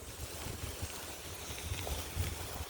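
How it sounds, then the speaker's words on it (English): Low, rumbling wind buffeting outdoors at Fort Halifax, steady with gusty bumps, no talking. "It is very windy out today."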